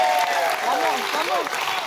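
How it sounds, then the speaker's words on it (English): An audience gives a round of applause, steady clapping throughout, with voices talking and calling out over it. "Give her a round of applause."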